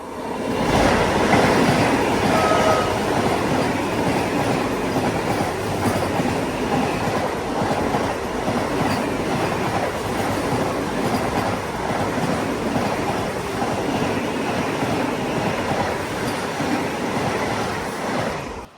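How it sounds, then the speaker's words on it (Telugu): A passenger train on the Vijayawada–Guntur–Macherla line pulls out of a station, heard from on board as a loud, continuous rumble with rhythmic clickety-clack of wheels on rail joints, holding steady for nearly twenty seconds. "9:12 మనం అయితే ఈ స్టేషన్ నుంచి బయలుదేరుతున్నాం."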